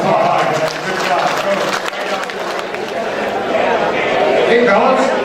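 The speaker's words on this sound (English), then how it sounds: "Give them a big round of applause" A crowd applauds the third place winners at a tournament, steady clapping and cheering mixed with a voice talking over it throughout.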